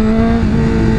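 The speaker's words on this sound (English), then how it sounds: "And we're gonna try a wheelie." A motorcycle engine revs hard and steady at close range, a loud, buzzing sustained drone with a strong pitched whine held for about a second.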